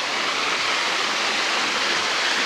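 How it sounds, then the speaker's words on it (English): Steady, full rushing roar of Slippery Rock Falls, a woodland waterfall on a backcountry hiking trail, continuous and even throughout with no voices. "Got big rock falls here."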